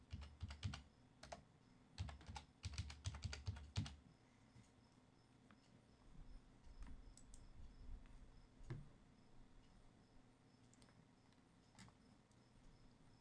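Keystrokes on a computer keyboard as a username is typed into a Joomla website login, a quick burst of clicks in the first four seconds, then a few sparse taps over faint room noise.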